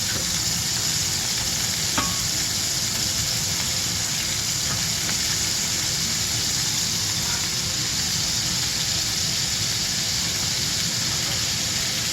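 Meatballs frying in a hot pan give off a steady, dense sizzle with crackling spatter that holds evenly throughout, near and fairly loud, with a brief clink of turning around two seconds.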